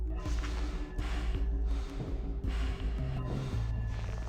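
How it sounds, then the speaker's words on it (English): The vent noise in Five Nights at Freddy's 2 comes through as a continuous low rumbling, scraping clatter with rhythmic knocks and thumps, fairly loud and close, with no voices. "That noise you just heard is what I thought to be Balloon Boy leaving"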